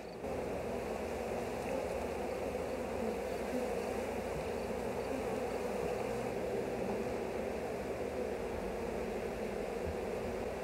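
Honeybees swarming around an opened hive during a varroa mite count, a dense, continuous buzzing hum at steady moderate level, with no speech.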